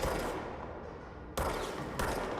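Bursts of gunfire in the video game Control strike blocking objects, three dense rapid volleys at moderate loudness with no voices.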